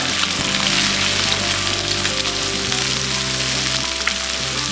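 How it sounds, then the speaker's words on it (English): Hash brown patties sizzle and crackle in hot grease on a Blackstone griddle, a loud, steady hiss that runs unbroken throughout. "Put these down in that grease so you can hear that. Oh, cooking nicely in the grease here."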